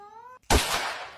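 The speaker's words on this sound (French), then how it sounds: "Ah, il miaule là." A cat meows once indoors, a short strident cry that bursts out after a brief tonal sound and fades over about a second, close and loud.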